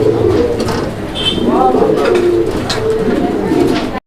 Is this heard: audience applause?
no